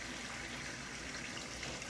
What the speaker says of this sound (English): I'm going to fill this sink up.